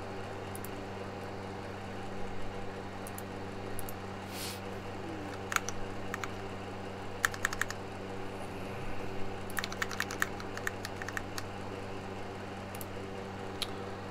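Keys clack on an acrylic custom mechanical keyboard in bursts of quick taps and single presses over a steady low machine hum, sparse at first then clustering into rapid runs.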